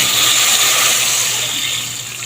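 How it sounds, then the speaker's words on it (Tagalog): Water poured from a tap or container into a cooking pot to boil pork for sinigang, a steady close splashing rush with a bright hiss that eases slightly toward the end, no voices. "Lagyan na natin ng tubig para malaga."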